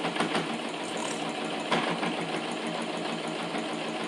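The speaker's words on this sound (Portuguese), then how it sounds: "E vou passar uma costurinha aqui assim, prendendo tudo" Sewing machine stitching layers of pinned fabric for a small round zip pouch, a steady close mechanical whir with a continuous rhythmic clatter.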